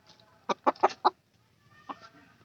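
A hen cackles close by in a small coop, giving four quick, sharp clucks in a row, then a single softer cluck after a short pause.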